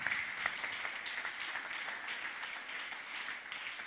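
A congregation at a Thanksgiving church service claps in scattered, uneven hand claps. The clapping is faint and distant, continuing lightly for a few seconds with no voices over it.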